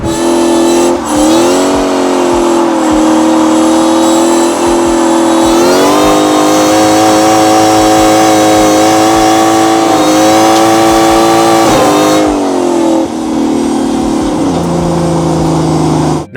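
A supercharged V8 drift truck engine revs hard and steadily on a large road course, its loud droning pitch climbing and dipping with throttle changes through the run, close and continuous with no talk.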